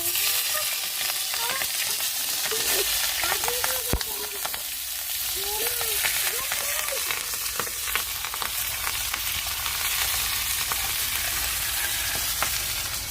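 Chicken fries in oil on a wood-fired clay stove with a dense, continuous close sizzle, broken by occasional stirring scrapes and clinks.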